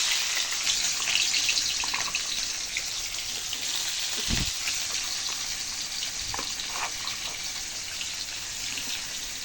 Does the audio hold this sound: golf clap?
no